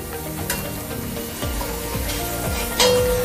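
Onions, black pepper and other spices frying in cooking oil, a steady close sizzle with occasional light clinks of a utensil against the pan.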